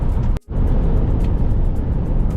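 Steady low engine rumble and road noise of a truck driving on a highway, loud and continuous from inside the cab, with one brief dropout.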